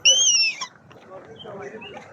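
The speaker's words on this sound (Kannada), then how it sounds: "ಒಳ್ಳೆ ಬೇರೆ ಬೇರೆ ಜಾತಿಯ ಬರ್ಡ್ಸ್ ಇದೆ ನೋಡಿ" A caged bird for sale at the Kuwait Friday market gives one loud, clear whistling call lasting about half a second, then soft chirps and murmuring market noise follow.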